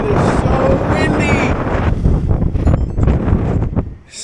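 Strong wind buffets the microphone outdoors on a dirt road, a loud, rough, continuous roar with gusty surges that eases off briefly near the end.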